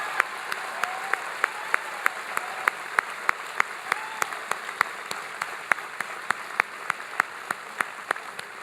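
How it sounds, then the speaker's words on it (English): A town hall audience on health care in Green Bay with President Obama gives sustained, even applause, a dense wash of clapping with distinct individual claps popping out steadily across the whole stretch. "can everybody please give Laura a huge round of applause for sharing her story?"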